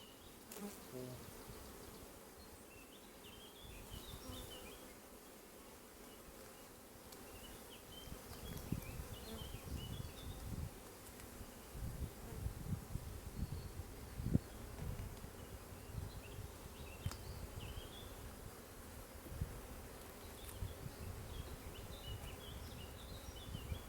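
Steady, close buzzing of many bees hanging idle at the hive, a dense droning hum with occasional individual insects passing louder.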